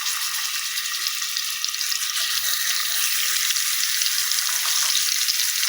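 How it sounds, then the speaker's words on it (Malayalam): Marinated fish frying in coconut oil in a pan, a steady, close hiss of sizzling that stays loud and even throughout, with no talking. "നമുക്ക് മാഗ്നേറ്റ് ചെയ്ത് വെച്ച് കൊടുത്ത ഓരോ മീനും നമുക്ക് ഇതിലേക്ക് ഇട്ട് കൊടുക്കാം"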